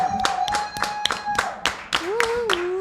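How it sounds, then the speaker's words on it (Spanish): A single person clapping hands to welcome a guest into a talk-show studio, a dozen or so sharp separate claps in a loose rhythm, close and moderately loud, with a faint tonal hum in the background. "te voy a recibir con un aplauso"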